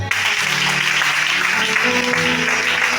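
A church congregation applauds together during a Sunday service in Libreville, Gabon, the clapping dense, loud and steady throughout, with a little music or voice blending underneath.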